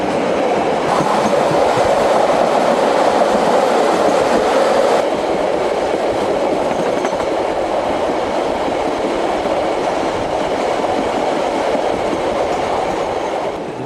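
A diesel coal train rumbles steadily along the tracks near the Otira Tunnel, New Zealand, a continuous loud engine drone with faint rhythmic rail noise and no voices.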